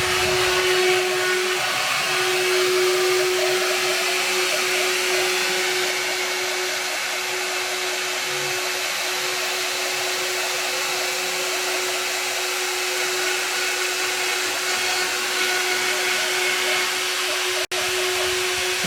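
A CNC machine milling the final finishing passes on a seat mould for a 1917 Indian Chief motorcycle gives a steady, continuous whine with a sustained tonal hum, loud and unbroken throughout with no talk.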